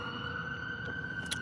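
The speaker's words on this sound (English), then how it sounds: "We got a police car going by, or an ambulance going by." A police car or ambulance siren passes outside during a music business lecture, its steady wailing tones sounding faint and distant over room ambience, with no one speaking.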